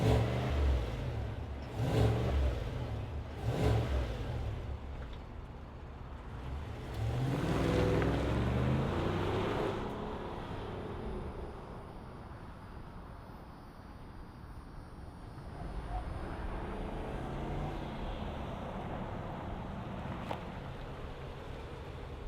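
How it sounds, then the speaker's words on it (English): The 6.2-liter V8 of a 2025 Chevrolet Suburban RST revving: a couple of strong throttle blips early on, then a longer swelling rev that settles back to a deep idle hum, heard loud and close with no talking. "Let's rev it up and hear what it sounds like."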